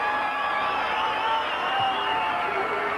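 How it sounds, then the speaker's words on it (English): A stadium crowd roars as the Winfield Queensland Maroons run out for a 1992 rugby league test against Great Britain, a dense, steady wall of cheering and applause that holds at an even level with no break. "And the crowd certainly getting behind them."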